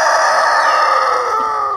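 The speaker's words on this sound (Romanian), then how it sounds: "Cocoșul ăsta matur se trage dintr-o linie din Germania" A mature rooster from a German line crowing, one long loud sustained call, close and clear, tapering slightly at the end.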